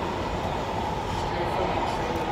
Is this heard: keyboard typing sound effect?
no